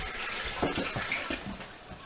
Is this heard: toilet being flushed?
yes